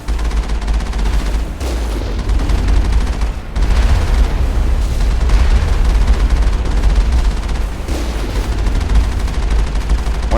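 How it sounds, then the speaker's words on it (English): Vehicle-mounted cannon fire and explosions in the video game Mass Effect: loud, dense bursts of blasts and booms roll on almost without a break, with a couple of brief dips between volleys and no talking. "there's nothing like blowing shit up from a distance with this cannon"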